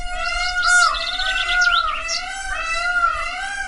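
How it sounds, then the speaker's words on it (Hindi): Birds sing sweetly in a sunlit forest with flowering trees, one bright voice trilling and warbling in rapid tonal phrases, close and clear over a faint low hum, with no talking. "पक्षी मीठे स्वरों में गाते थे।"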